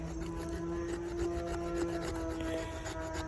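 The spine of a Mil-Tac CS-1 fixed-blade knife scrapes along the flat side of a piece of wood, making a steady, close, fairly quiet rasping rub without speech.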